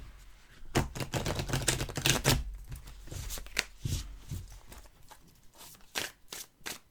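Oracle cards are shuffled and cut by hand, giving quick bursts of soft riffling and slapping card sounds in an irregular rhythm, close and faint, with brief pauses between clusters.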